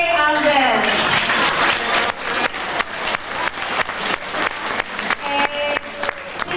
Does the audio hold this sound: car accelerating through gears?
no